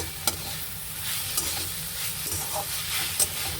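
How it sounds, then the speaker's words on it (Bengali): Saag greens frying and being stirred in a pan: a soft steady sizzle with scraping stir sounds and a few sharp clicks, close by and with no talk. "শাকটা ভাজা হয়ে গেছে, আমি সামান্য চিনি দিয়ে দিলাম।"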